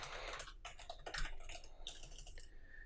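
Quick, light clicking of fingers typing on a computer keyboard, heard close and fairly quiet in short uneven bursts with brief pauses.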